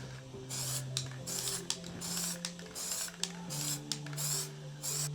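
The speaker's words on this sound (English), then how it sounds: "get down and spray it with some high temp spray" Bursts of high-temperature aerosol spray paint hiss in repeated short blasts onto a Toyota Aygo exhaust, close by, over a steady low electrical hum with tonal whine.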